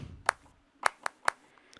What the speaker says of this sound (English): And then I have this clap here. It's kind of a very realistic sounding clap